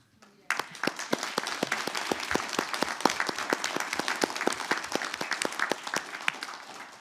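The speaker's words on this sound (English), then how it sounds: "You all want to give them some applause?" A board meeting audience claps steadily for several seconds, a dense run of sharp hand claps with no talk over it.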